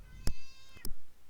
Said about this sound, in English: It's the same cat you can see on the video.